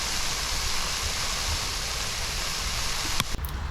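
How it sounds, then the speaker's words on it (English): Compressed air hisses steadily out of a sprinkler line during a winter blowout, a continuous broadband rush with no water spray, ending in a brief handling noise near the end. "I can just hear the air rushing out."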